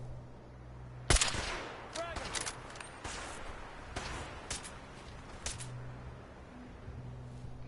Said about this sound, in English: You scare me when you shoot with silenced weapons